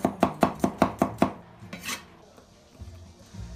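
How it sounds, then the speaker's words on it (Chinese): A knife slices garlic on a cutting board in about seven quick, evenly spaced chops, loud and close, followed by a scraping sweep and a few quieter knocks, with no talking. "正经的大蒜切成片"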